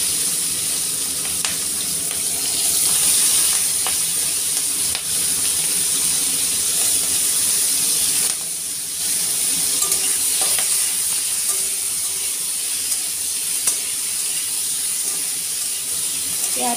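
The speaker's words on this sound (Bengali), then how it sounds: "আলু আমার লাল করে ভাজা হয়ে এসছে, এই পর্যায়ে আমি পেঁয়াজ কলিগুলো এর মধ্যে যোগ করে দেব।" Potatoes and onion stalks frying in a pan while being stirred, a steady close sizzle with repeated scraping strokes of the spatula, loud and continuous throughout.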